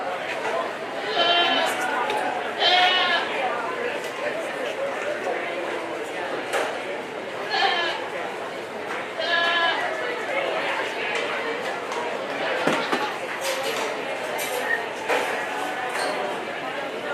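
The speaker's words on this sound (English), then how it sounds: "Entering the ring will be Market Goat Show Class number 1, Kyle Media, Erica Batson, Mason Swinier" Goats bleat repeatedly in a county fair market goat show ring, several calls rising over a busy crowd murmur, while people chatter and talk nearby.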